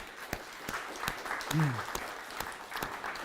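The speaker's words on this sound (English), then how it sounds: "Clap as well, shouldn't we?" Sparse audience clapping at a zero carbon cities talk during a histories festival, a few scattered individual claps with a brief voice sounding in the middle.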